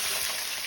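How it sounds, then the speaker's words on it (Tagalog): Catfish fries in a pan with a steady, loud crackling sizzle throughout, brief and continuous with no other sounds. "Siyempre, prito na natin yan."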